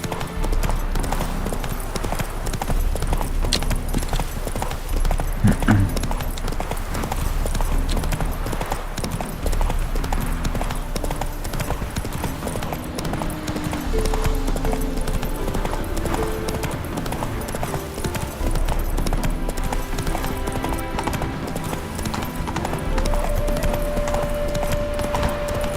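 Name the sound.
horse Roach galloping in video game The Witcher 3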